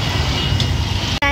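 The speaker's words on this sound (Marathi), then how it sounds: "काय तुम्ही ट्रॅफिक बघा, केवढी ट्रॅफिक लागलेली आहे." Dense road traffic in a town, a continuous broad rumble of engines and tyres heard close by and fairly loud, with a brief voice at the end.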